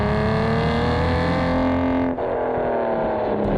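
A 2008 manual Aston Martin DBS V12 with a sport catalytic exhaust accelerates hard, its engine note rising loud and close, dipping briefly at a gear change, then pulling strongly again.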